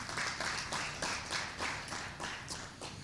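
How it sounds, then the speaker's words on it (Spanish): A church congregation claps together in broad, rhythmic bursts of about three claps per second, steady and fairly close, with no voices over it. "Dale un aplauso al Señor."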